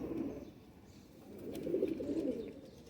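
Fancy golden and bankey pigeons coo in low, throaty, rolling phrases that rise and fade across a short stretch, heard close and clear with no voices.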